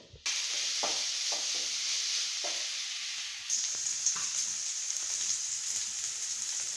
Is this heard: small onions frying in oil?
yes